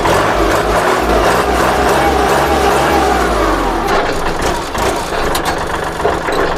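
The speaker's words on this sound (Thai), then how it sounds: "เครื่องยนต์จะเป็น 3 สูบ direct injection ครับ4วินขับเคลื่อน4ล้อนะครับ เครื่องติดง่ายครับ" A used Kubota or Iseki four-wheel-drive tractor with a three-cylinder direct-injection diesel idles close by, a loud, steady low rumble with rattling and knocking over it.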